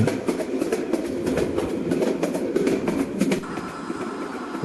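A train running in the Train Simulator Bangladesh game, a loud continuous rolling rumble with rhythmic clickety-clack wheel beats over the rails.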